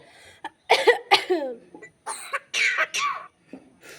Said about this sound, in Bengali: শুধু কাশি হচ্ছে আমার এত কাশি হয়েছে